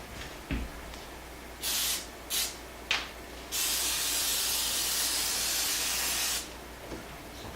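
An olive oil sprayer misting boudin sausages for smoking: several short hissing spritzes followed by one long continuous spray, close and fairly quiet with no talking.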